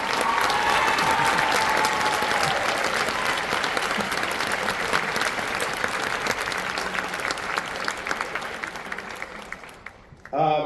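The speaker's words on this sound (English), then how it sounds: "One more round of applause for Kate and Kat." A large audience at a high school spring band concert claps continuously and loudly for about ten seconds, a dense crackling wash of hands that cuts off abruptly at the end.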